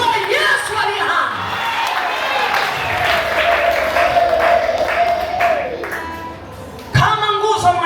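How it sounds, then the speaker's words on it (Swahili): A church congregation applauds and cheers for Jesus during a sermon, loud clapping mixed with shouts and whoops, while a voice calls out over the crowd and a sharp burst comes near the end. "Hebu tumshangilie Yesu wetu kwa makofi."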